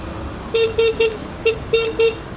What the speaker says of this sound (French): Oh, le klaxon, incroyable.